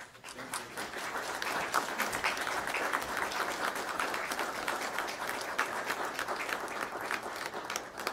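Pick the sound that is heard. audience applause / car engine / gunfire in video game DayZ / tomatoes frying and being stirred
audience applause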